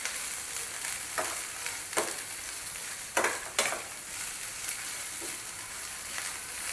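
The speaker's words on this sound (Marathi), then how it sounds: "परतून घ्यायच्यात फक्त 2 मिनटं." Carrots and mixed vegetables stir-fried over a high flame, a steady close sizzle with a few sharper clatters of the spatula tossing them in the pan, no voices.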